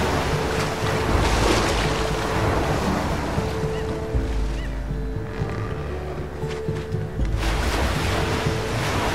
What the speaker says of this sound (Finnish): Aalto tulee.